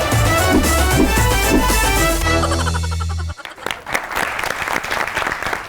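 Studio audience applause on a television variety show, loud clapping from a crowd blended with music at first, then a music sting and continued lively clapping.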